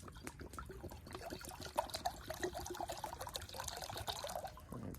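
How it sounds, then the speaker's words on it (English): A bottle of water is poured into a pot at an outdoor cookout, giving a steady, fairly quiet splashing and gurgling stream that runs unbroken for several seconds. "I'm gonna put 1 bottle of water in here."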